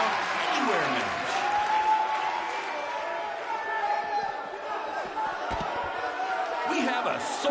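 A sold-out arena crowd at a Falls Count Anywhere wrestling match in the WWE 2K19 video game keeps up a steady, dense roar and cheer, with voices talking over it.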